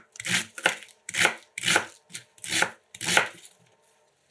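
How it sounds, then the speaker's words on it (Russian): Knife shredding Napa cabbage on a cutting board for a salad, heard as six crisp, evenly spaced chopping strokes, close and clear with no talk. "Делаем 3 разреза вдоль и шинкуем капусту ножом"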